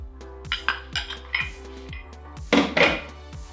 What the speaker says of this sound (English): we're just gonna mix together our eggs and our oil